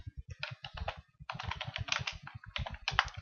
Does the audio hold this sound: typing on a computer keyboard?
yes